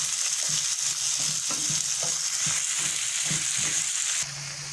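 Onions, tomatoes, green chillies and dry fruits sizzle steadily in a pan, with soft stirring taps and scrapes throughout before the frying drops slightly quieter near the end.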